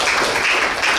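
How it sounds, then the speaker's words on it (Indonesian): Classroom applause from students, a steady dense wash of clapping throughout a short burst, fairly loud and close with no clear talk over it. "Oke, kasih tepuk tangan."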